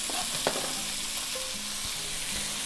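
Chopped onion sizzles and fries in rendered bacon fat in a pan for Polish bigos hunter's stew, a steady close hiss with a few light stirring clicks throughout.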